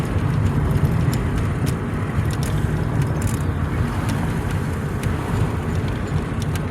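A car with a broken rear sway bar rolls down the road, steady loud cabin and road roar carrying faint loose rattles and ticks throughout, with no one speaking.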